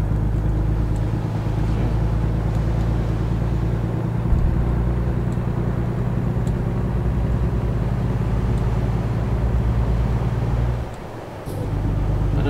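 A heavy truck engine in American Truck Simulator drones steadily and loudly, a low continuous rumble that holds for most of the stretch before briefly dipping near the end, then returning, with no talk over it.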